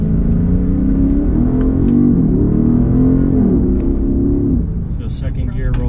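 A 2015 Dodge Charger R/T Scat Pack V8 roars loudly and steadily under hard acceleration in second gear, its deep engine note climbing in pitch before easing off near the end, heard from inside the car.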